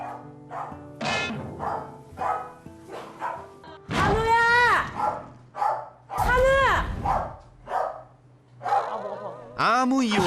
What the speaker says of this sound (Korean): 아무 이유 없이 이곳저곳을 돌아다니며 짖는 한우 때문에 걱정이 이만저만이 아니었는데요